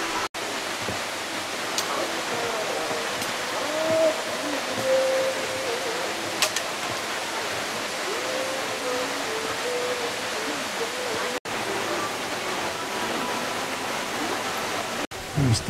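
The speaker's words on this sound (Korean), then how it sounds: "우리 저기 또 작은 폭포가 하나 나왔어요." Small mountain waterfall in a valley gives a continuous broad rushing hiss that holds steady throughout, with brief speech and faint sounds over it.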